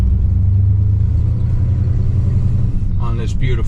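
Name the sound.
1972 Cadillac engine while driving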